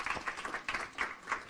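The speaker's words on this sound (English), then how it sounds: "please give them a warm hand of applause" Scattered, light clapping from a small audience at a live Cashflow 101 game session, a handful of quiet, uneven claps rather than a full ovation.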